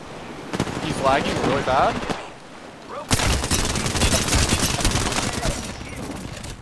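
Dense automatic weapon fire from the video game Apex Legends, a short burst followed by a long sustained volley, loud and close, with a player talking over it.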